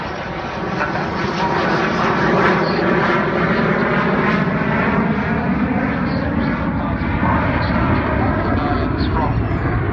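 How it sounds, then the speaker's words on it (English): An Avro Vulcan bomber roars past at an RAF Cosford display with its bomb bay open, a loud, sustained jet drone that swells and holds steadily throughout, with voices faintly audible beneath it. "So Jonathan Lazari, the AEO, is opening the bomb bay as she goes by."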